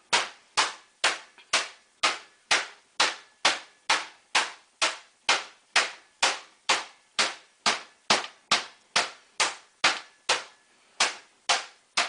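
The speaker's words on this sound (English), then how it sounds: "hit it with the tenderizer side. It'll help break up the meat" A meat tenderizer pounds a schnitzel cutlet flat for Jaeger schnitzel, striking in a steady run of about twenty-five sharp, loud thumps at an even pace with no talking.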